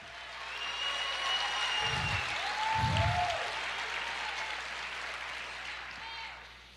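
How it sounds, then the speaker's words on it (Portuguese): Church congregation applauding during an evangelical sermon, a steady broad clapping wash throughout with brief low thumps and some voices or music tones over it. "Aplauda o Senhor, diga aleluia, eu creio"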